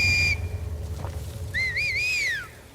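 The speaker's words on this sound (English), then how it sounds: "they communicate using this weird whistling language" Scars communicating with their eerie whistling language in The Last of Us Part II: a short steady whistle, then a longer warbling whistle that rises and falls before dropping away, clear and alone.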